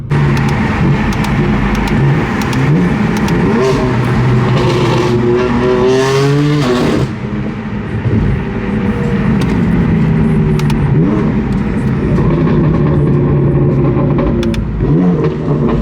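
A BMW M4 GTS and a G80 M3 rev their engines close by in a parking lot, the exhaust roaring loudly with rising and falling pitch sweeps, with one sharp climbing rev and several blips over a constant engine drone.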